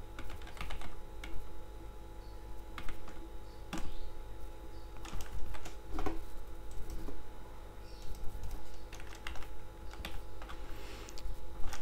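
Code is typed steadily on a computer keyboard, producing a continuous run of close, crisp key clicks with uneven rhythm and occasional heavier key presses, with no voice.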